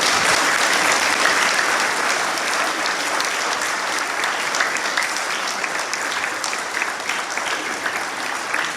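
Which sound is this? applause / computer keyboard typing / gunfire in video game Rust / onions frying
applause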